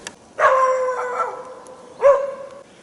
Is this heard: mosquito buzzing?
no